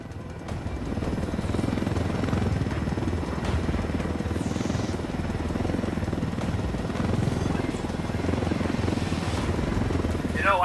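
Helicopter flying in the video game Ghost Recon Wildlands: a dense, continuous rotor drone and engine rumble filling the cabin, loud and steady for the whole stretch.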